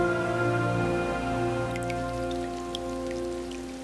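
Steady rain falls on a village during the monsoon season, a dense, continuous hiss with scattered sharper drop taps, loud and close throughout with no voices.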